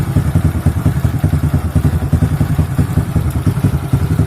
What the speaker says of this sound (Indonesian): Nah ini kondisi mesin setelah dihidupkan ya.